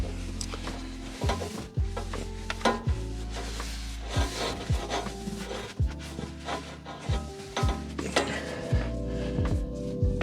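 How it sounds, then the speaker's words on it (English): Rag wiping up puddles of spilled hydraulic fluid on a Chinese ZJG380 mini skid steer, with repeated rubbing and scraping strokes and occasional clunks, close and moderately loud, no talking. "I'll wipe up some of this."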